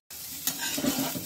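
Pieces of raw jackfruit dropped into hot oil, bursting into a sudden close sizzle that holds steady with faint bubbling and spoon stirring, no voices.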